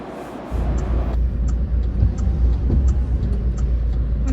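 A motorized tricycle, known in Bohol as a bao-bao, drives along with a loud, steady low engine drone close by and a faint rhythmic ticking over the rumble, with no talking.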